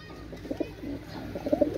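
Low, throaty cooing rises from a pen of high-quality Pakistani pigeons kept as a breeding pair, several short coos pulsing in uneven bursts close by, a little louder toward the end, with no voices.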